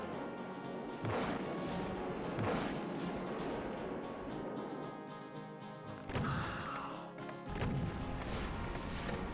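Gunfire in the Doom video game, aimed at an Arch-vile amid a dense, chaotic soundscape of blasts and impacts. Several loud shots stand out over the steady game noise and no one speaks.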